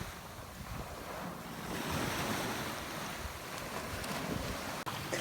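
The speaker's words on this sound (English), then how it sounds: "Just listen to the ocean." Ocean surf rolls onto Fort Myers Beach, Florida, as a soft, continuous wash of waves mixed with wind noise on the microphone, heard faintly and alone.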